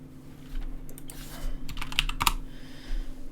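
A few quick keyboard key presses, sharp clicks close by over a low steady hum, with a couple of louder taps near the end.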